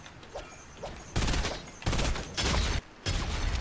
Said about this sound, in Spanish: Alguien más le dispara, las minas hacen su trabajo.